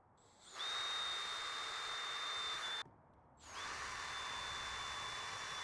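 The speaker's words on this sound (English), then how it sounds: "I'm going to go ahead and drill it with a half inch drill bit" A power drill with a half-inch bit boring into plastic, two sustained high whirring runs separated by a brief stop, loud and close with no talk.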